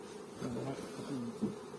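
Honeybees at an apiary drone in a steady close buzz, their wingbeat hum wavering in pitch as individual bees pass near, with no speech over it.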